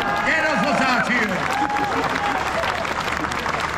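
An audience claps together at a light-hearted stage performance, a brief, dense, steady round of applause with voices audible over it.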